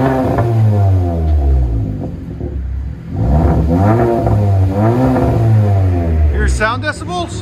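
A 2021 Kia K5 GT-Line fitted with a Vibrant resonator exhaust revs several times in close succession, its engine note climbing and falling in loud, smooth sweeps near the listener.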